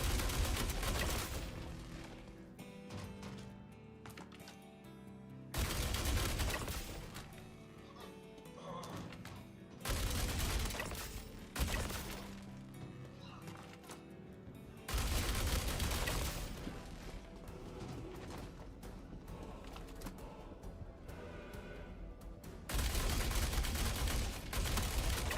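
Gunfire in Star Citizen during a tense ammo-short fight, sharp bursts arriving in distinct loud blocks separated by quieter stretches, mixed with game sound and little speech.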